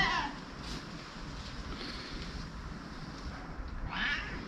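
A cat meows in the streets of Mdina, Malta: a couple of clear calls near the start and end over steady outdoor background noise, fairly close.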